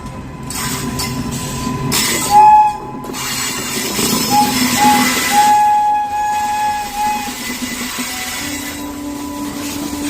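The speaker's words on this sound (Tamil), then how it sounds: "சரக்கு ரயில் எஞ்சினால் வந்தே பாரத் ரயில் இழுத்துச் செல்லப்பட்ட வீடியோ வைரல்" A Vande Bharat train towed by a freight locomotive rumbles past with rolling wheels and metallic screeching, steady and fairly loud, with a brief horn-like tone.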